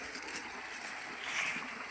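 Irrigation water running through a maize field: a soft, steady rush and gurgle of flowing water, fairly faint and even throughout, with no talking.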